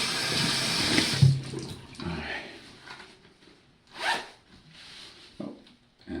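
Front-zip clothing is zipped in a bathroom, brief rasping zipper runs heard close up, with running water and a flush-like wash of noise in the background.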